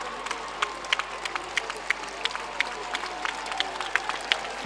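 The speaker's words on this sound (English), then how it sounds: "So we will let you hear how the crowd greets him." At the Sartiglia, a crowd cheers and applauds a rider. The distant roar is steady, punctuated by sharp, regularly spaced claps or beats.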